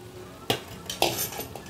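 Mashed potatoes go into a pot for a fasting-style potato curry, with a couple of sharp clinks of a utensil against the pot and soft scraping stirs, fairly close and fairly quiet.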